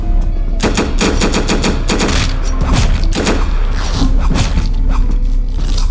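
Video game gunfire aimed at a vending machine, loud close bursts of rapid automatic shots in quick clusters, nearly continuous.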